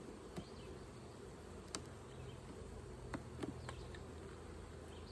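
Honey bees buzz steadily around a backyard hive on a homestead, a continuous low drone with several individual bees zipping close past at moments, no talking.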